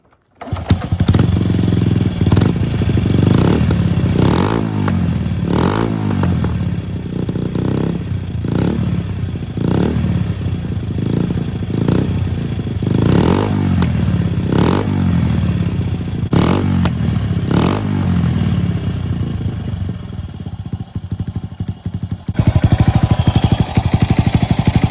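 A 1999 Honda C90 motorcycle fitted with a big bore exhaust idles and revs loudly and close, with repeated throttle blips rising and falling over a steady engine drone.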